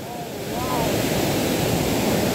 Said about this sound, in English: this waterfall you can see extremely beautiful. Lot of pressure is there and very clean water